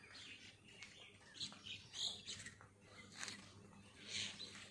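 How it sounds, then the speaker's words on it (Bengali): Many small birds chirp and tweet around a perch where more keep flying in, faint scattered calls repeating over a soft background hum, with no one speaking. "এই যে এখানে অনেক পাখি বসে আছে, কিছু পাখি উড়ে আসতেছে"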